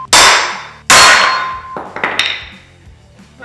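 Hammering a bolt into the nose gear of a Lancair kit aircraft: two loud ringing metallic strikes with long decays, then several lighter clanks and taps, close up and without talk.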